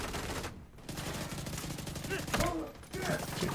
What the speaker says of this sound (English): I'm taking a lot of fire here!